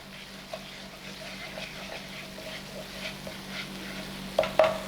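Kashmiri red chili paste sizzles steadily in a pan at close range, a soft continuous fry broken by light stirring taps and a couple of louder scrapes near the end.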